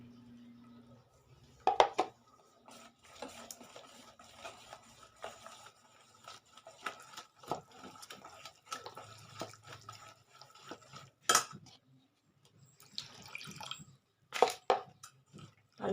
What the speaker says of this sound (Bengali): ভালো করে জল দিয়ে মিশিয়ে নেব